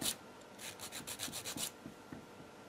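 A hand file rasps against a small metal winder part from a class 862 sewing machine, a series of about seven quick, close strokes in a brief rhythmic burst, followed by fainter rubbing.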